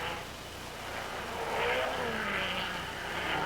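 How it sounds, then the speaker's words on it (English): Mercedes race cars climbing the hill at the 1955 Monaco Grand Prix, a distant engine drone that swells and recedes as the cars pass, heard from afar under broad crowd and track ambience. "The 2 Mercedes coming up the hill."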